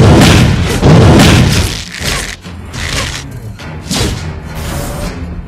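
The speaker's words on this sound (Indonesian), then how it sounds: "Tembakan hujan." Yi Sun Shin's rain shot skill effects in a video game: a barrage of heavy thuds and booming impacts in repeated bursts, loud and close, with brief gaps between volleys.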